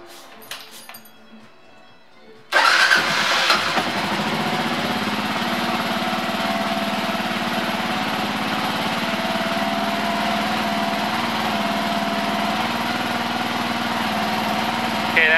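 A Kawasaki KLR 650 motorcycle engine starts after a brief quiet stretch, then idles steadily and loudly close by with an even, buzzing drone until the end.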